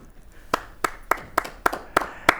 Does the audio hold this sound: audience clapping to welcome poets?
yes